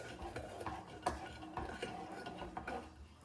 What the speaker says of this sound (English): Stir this up with my straw and see how it tastes.